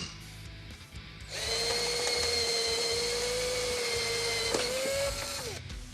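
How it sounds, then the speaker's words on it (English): Drill bit boring out a rivet on the latch of a Draper Traveller portable projection screen, a close high-pitched whirring drill run of about four seconds that slows and cuts off. "when we start going through with the drill bit, it's going to kind of grab onto that rivet and just spin it"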